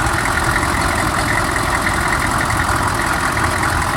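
The 6.5 turbo diesel in a 1997 four-wheel-drive GM truck idles with a loud, steady low rumble and clatter up close, the slight stumble barely distinguishable in the even drone.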